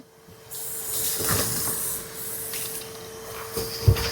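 A close aerosol spray hisses steadily for a few seconds into a yellow jacket nest, with faint rustles and a soft thump near the end.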